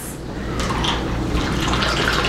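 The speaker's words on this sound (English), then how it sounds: "You take your martini glass, you pour it" Martini liquid pours steadily into a martini glass, a continuous close splashing and trickling that runs for a couple of seconds with no speech.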